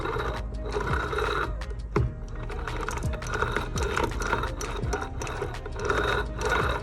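A manual transmission from a Foxbody with a 331 stroker, turned slowly by hand, gives off gritty, crunchy mechanical grinding with repeated clicks and rasping pulses, close and steady throughout.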